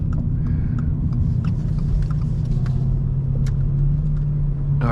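Toyota GR86 fitted with an MBRP exhaust cruising on the road, a steady deep low rumble from the engine and exhaust heard from inside the car, with a slight rise in pitch near the end.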